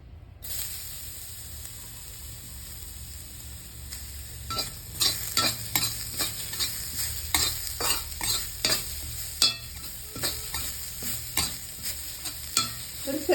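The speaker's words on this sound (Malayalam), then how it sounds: "അത് നന്നായിട്ട് വെള്ളമൊക്കെ വലിഞ്ഞിട്ടുണ്ട് അതിലേക്ക് നമുക്ക് തേങ്ങ ഇട്ട് കൊടുക്കാം" Grated coconut fries in a hot pan (cheenachatti) with a soft, steady sizzle, while a spoon scrapes and stirs in repeated close rhythmic strokes that grow busier as it goes.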